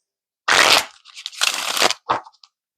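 A deck of tarot cards is shuffled up close in two quick riffling bursts followed by a brief softer flutter, with no voices over it.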